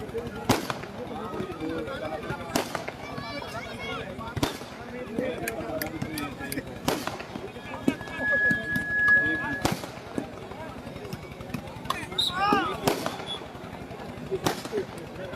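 Firecrackers and fireworks burst at a Diwali celebration beside a volleyball match, with sharp bangs every second or two and a crackling string of smaller pops, while someone talks over them.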